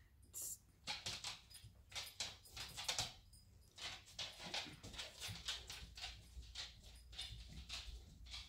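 A puppy whimpers and whines in short repeated high cries, fairly close, with some shuffling and jangling among them while a woman works on a cup-painting project.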